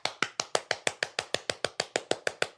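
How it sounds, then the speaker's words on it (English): A pair of hands claps in a brisk, even rhythm, about fourteen sharp, close claps in under three seconds with nothing else heard. "I'm clapping for myself."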